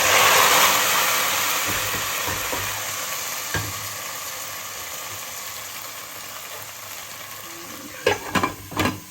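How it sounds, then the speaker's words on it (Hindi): Hot fried-onion tadka is poured onto a pot of nihari, giving a loud burst of sizzling hiss that slowly dies down over several seconds, followed near the end by a few clanks of utensils. "हम अभी अपनी निहारी पे तड़का लगा देंगे इसका"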